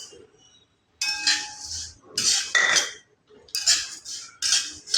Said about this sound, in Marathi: शेवया आपल्याला छान अशा सोनेरी रंगावर परतून घ्यायच्या आहेत